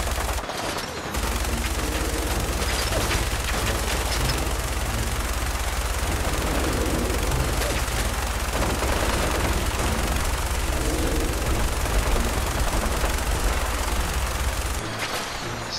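Sustained, heavy automatic gunfire from the Fallout 4 video game as an aircraft is shot down: a loud, dense fusillade of rapid shots that runs almost unbroken for about fifteen seconds, with rumbling blasts underneath.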